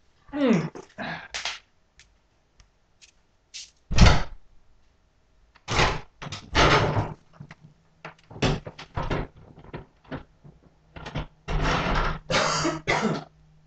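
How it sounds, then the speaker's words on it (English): Several short knocks and clunks of a small shack's door being opened, scattered bursts with pauses, followed by a sustained rustling and scraping noise, fairly close. "I'm going to go open my door real quick."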